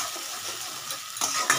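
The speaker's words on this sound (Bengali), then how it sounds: "এটা আস্তে আস্তে একটু ভাজা ভাজা হচ্ছে" Potatoes fry in ghee in a pan on a gas flame with a soft, continuous sizzle, broken by scraping stirs and a couple of sharper utensil knocks near the end.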